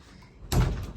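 A large bedroom wardrobe door: one sudden, solid thump or knock of the door halfway through, close and short, with quiet room tone before it.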